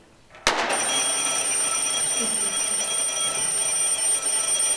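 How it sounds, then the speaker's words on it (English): An alarm clock bursts into continuous loud ringing after a short quiet moment and keeps going steadily without pause, as a sound effect in a college stage play. "Sound of the alarm clock."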